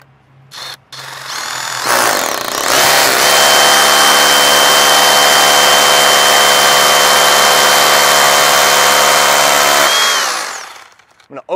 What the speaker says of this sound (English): I'm gonna drill them out with a 3/16 bit.